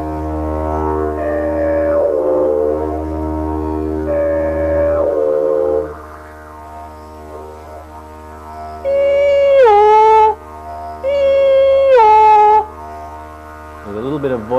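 A didgeridoo drone with voice modulation imitates a feral donkey's bray, a low sustained hum broken by two loud, braying vocal whoops toward the end.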